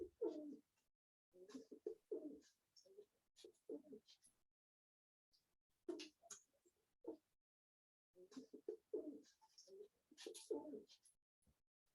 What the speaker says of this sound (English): here's a little video that I took of the pigeon. Listen to how cute it is when it coos.